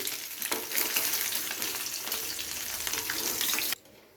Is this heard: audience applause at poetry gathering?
no